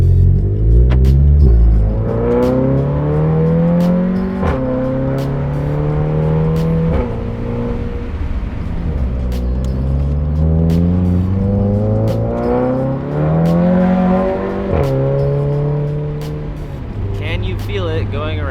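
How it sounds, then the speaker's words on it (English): A VW GTI warming up and driving around a town block, its engine rising and falling through repeated gear changes, with a steady loud hum close inside the car and speech over it. "We'll go around the block. I'm gonna get the car warmed up a little bit."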